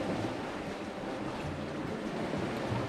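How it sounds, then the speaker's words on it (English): Light wind and gentle sea sounds aboard a sailboat on a quiet night crossing the South Atlantic, a soft, steady wash with no distinct events and no talk. "Quiet night, just a very light wind."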